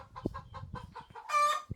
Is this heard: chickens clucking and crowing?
yes